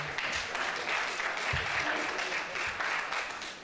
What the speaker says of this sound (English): a big round of applause for the registrar once again